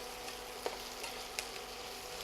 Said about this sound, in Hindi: प्याज ने अब आप एक बार अच्छा पका लेंगे।